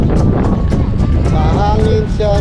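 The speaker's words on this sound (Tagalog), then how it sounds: "Masyadong mahangin mga ka-vloggers" Strong wind roars and buffets the microphone at Busan X the Sky, a loud continuous outdoor rush with people talking over it.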